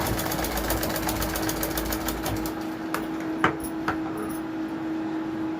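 A home sewing machine stitches a blouse, running in a fast, steady rapid-fire rhythm that stops partway, followed by a few sharp clicks and knocks and a faint constant hum, with no talking.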